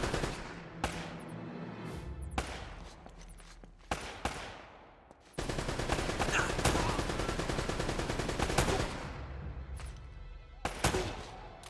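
Video game gunfire in Uncharted: Drake's Fortune, with sharp single shots spaced apart, then a sustained loud burst of rapid automatic fire that ends in a few more isolated cracks.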